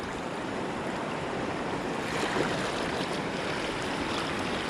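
Kayak paddling on river whitewater in a Crescent Kayaks CK1 Venture: steady rushing water and surf-like noise fills the whole stretch, with faint paddle splashes and light wind buffeting, no voices.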